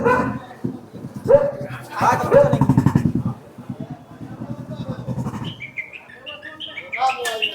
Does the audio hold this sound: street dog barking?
yes